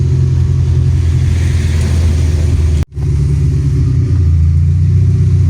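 A car engine with a leaking, holed exhaust revs loudly and steadily, a deep rumbling drone that holds throughout apart from one sudden brief cutout midway.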